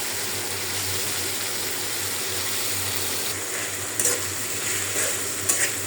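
Chopped tomatoes hit a pan of frying spices and green chilies, keeping up a steady sizzling hiss, with a few brighter spatters and scrapes toward the end.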